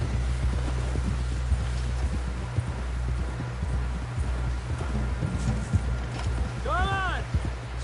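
Horse hooves gallop in an open-world video game, a quick, steady clip-clop drumming close by under people talking, with a short whinny near the end.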